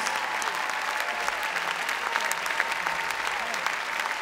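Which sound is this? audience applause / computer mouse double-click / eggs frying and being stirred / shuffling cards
audience applause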